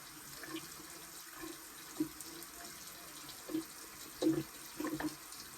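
A bathroom tap runs into a sink, steady water flow at low level with a few brief louder splashes and clinks near the end, no one talking.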